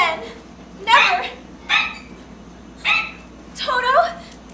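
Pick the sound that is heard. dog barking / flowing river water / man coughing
dog barking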